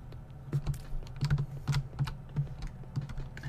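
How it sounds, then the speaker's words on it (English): Computer keyboard keys clatter close up while The Binding of Isaac is played on PC, an uneven run of quick taps and small bursts of clicks with no voices. "Yes, I am playing with the keyboard."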